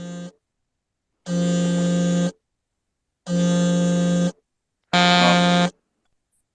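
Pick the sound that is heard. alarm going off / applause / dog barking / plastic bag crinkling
alarm going off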